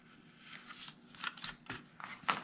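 Scissors cut through the cardboard panel of a box, a quiet run of several crisp snips and rustles in an uneven rhythm, close by with no talk.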